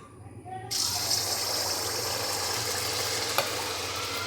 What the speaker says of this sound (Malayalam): നമുക്ക് മാവ് ഒഴിച്ചു കൊടുക്കാം